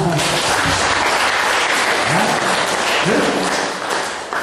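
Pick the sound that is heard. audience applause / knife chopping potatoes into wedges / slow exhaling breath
audience applause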